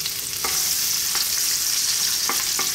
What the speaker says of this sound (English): We're gonna start off by dropping in our garlic and our ginger.